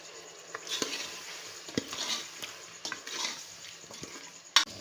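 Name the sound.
turmeric, cumin and garam masala spices frying in a pan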